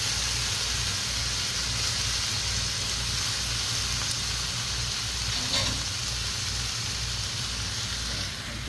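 Wild mushrooms, beef and carrots stir-frying in a pan, a constant loud sizzle with a low steady hum underneath, close and uninterrupted throughout.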